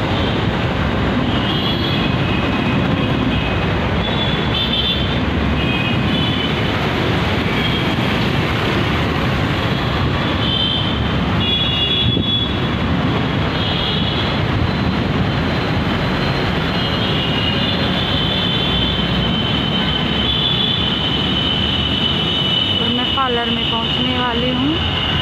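Metro train moving through a large station, a steady loud rumble of wheels and carriage noise throughout, with wheel squeal near the end and voices speaking over it.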